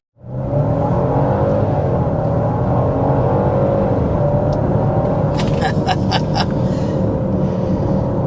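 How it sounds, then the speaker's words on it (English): An SUV pulls away hard from a stop in Sport Plus mode, its engine rising into a loud, sustained rumbling rev heard from inside, with a few light clicks near the end. "So that was a Sport Plus acceleration from a stop there."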